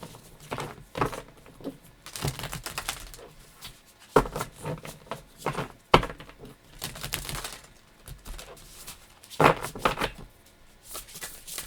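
Tarot cards being shuffled by hand, a soft, papery riffling and patting in irregular bursts, close and fairly quiet, with no talk.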